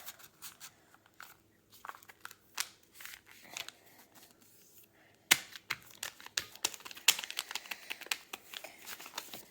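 Sheets of paper are creased and folded into a paper airplane, giving close, quiet crinkles and sharp crackling swipes in irregular bursts, growing busier in the second half.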